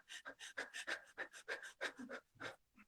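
A person breathes in a rapid, shallow pant, about a dozen quick close breaths in a steady rhythm, imitating anxious breathing with no other sound.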